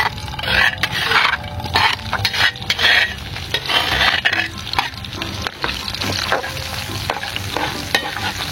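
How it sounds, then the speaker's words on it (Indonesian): Food stir-fried in a pan after pepper is added, with loud continuous sizzling and frequent scraping, clattering strokes of a utensil against the pan, busy and close throughout. "kita langsung tumis ya sobat"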